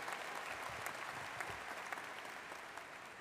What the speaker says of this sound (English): you give them a round of applause, because they're awesome